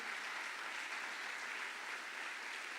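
Faint, distant congregation applause during a church sermon, an even, continuous wash of many hands clapping with no distinct individual claps standing out.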